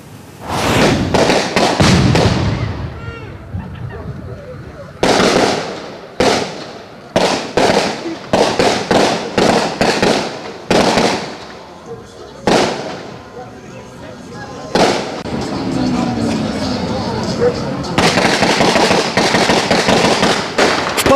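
Loud bursts of gunfire and booming explosions at a military demonstration, some in rapid clusters, others isolated, with crowd noise and voices between blasts outdoors.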